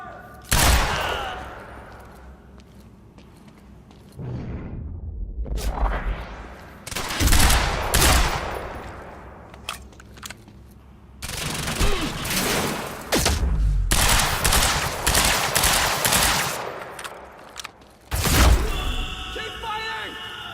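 Heavy automatic gunfire in the Quantum Break shooter, with loud sustained bursts and fusillades broken by short pauses, close and punchy, while a voice speaks in between.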